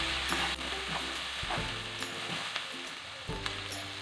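Turmeric and cumin being stirred into a sizzling mixture in a pan for baingan bharta, a low constant sizzle with several distinct spatula scrapes and knocks against the pan, no voices.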